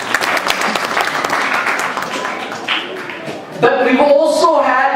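Audience applause at a community event, a few seconds of moderate clapping before a voice begins speaking over the fading claps.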